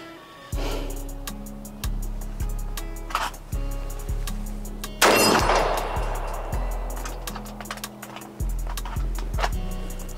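Gunshots on a range bring sharp metallic pings from steel targets, about a dozen evenly spaced reports and rings in sequence, loud and close with no talk.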